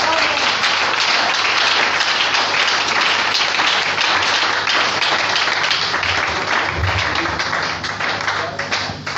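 A church congregation claps and applauds together, a loud dense crackle of many hands that carries on steadily and fades slightly toward the end.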